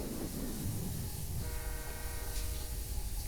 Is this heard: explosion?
no